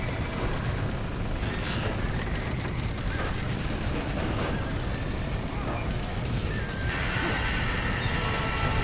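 Horses in the Western video game Red Dead Redemption whinny and neigh repeatedly amid clip-clopping hooves and a noisy rushing background, with shouting voices over the commotion.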